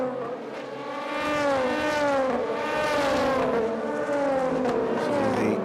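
A Ligier LMP3 race car pulls away on a circuit during an endurance race, its loud engine climbing and shifting through gears as it accelerates into the distance.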